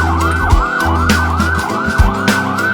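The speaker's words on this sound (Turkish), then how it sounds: "Siren siren siren sirenleri çalıyor" A wailing siren sweeps up and down repeatedly, loud and close, over a steady low engine rumble, with no voices.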